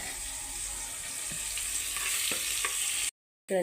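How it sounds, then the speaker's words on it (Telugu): Ground masala with onion pieces and jaggery frying on a low flame for stuffed bitter gourd, a soft continuous sizzle with a few light stirring knocks, cutting out briefly near the end. "ఈ విధంగా మసాలాలన్నింటినీ బాగా లో ఫ్లేమ్లో పెట్టి ఒక టెన్ మినిట్స్ కుక్ చేసుకుందామండి"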